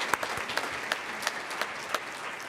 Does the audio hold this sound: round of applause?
yes